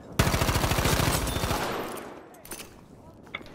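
Automatic gunfire in a Battlefield game: a fast, loud, close burst of rapid shots runs for over a second, then fades into a few scattered sharp reports and background noise.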